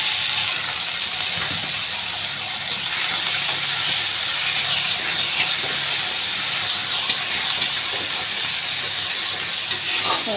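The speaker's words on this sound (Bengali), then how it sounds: "পেঁয়াজ রসুন কাঁচা লঙ্কা আর কালো জিরে কুচি কুচি করে দিয়ে দিয়েছি তেলের মধ্যে এবার এটার মধ্যে কচু লতিটা দিয়ে দেব" Taro stems hit hot oil already holding chopped onion, garlic, green chilli and black cumin, giving a loud, steady hiss of sizzling that runs unbroken with no voices.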